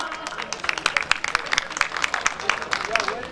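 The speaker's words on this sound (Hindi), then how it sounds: "जोरदार तालियां" A seminar audience applauds steadily with dense, overlapping clapping and a few sharper individual claps, fairly close and continuous throughout without a break.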